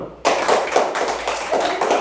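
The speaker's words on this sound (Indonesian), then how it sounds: "Tepuk tangan dulu." A classroom group claps hands together, a dense steady burst of applause-like clapping lasting about two seconds after a short quiet start.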